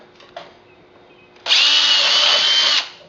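A power drill drilling holes in a horse trough whirs briefly twice, then runs steadily for over a second at high speed before stopping.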